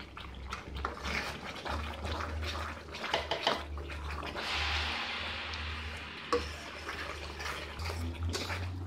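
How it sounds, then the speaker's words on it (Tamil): Oil goes into a pan holding a potato mixture that is then stirred and pressed, making a wet, scraping, swishing clatter that carries on steadily nearby with brief knocks and no talking. "இப்போ எண்ணெய் ஒரு கண்டி ஊற்றுறேன்."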